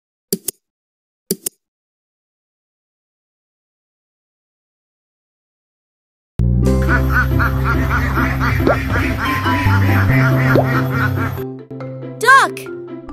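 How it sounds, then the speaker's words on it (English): Duck quacking, a short run of loud, close, repeated quacks after a few brief clicks and a long stretch of silence. "Duck!"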